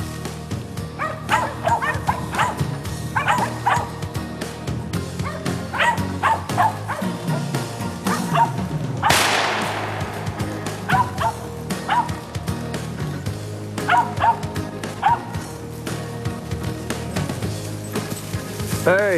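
Several dogs chasing a squirrel bark and yip excitedly in repeated bursts, with whimpers and a brief rustling crash midway, fairly close amid outdoor noise and some talk.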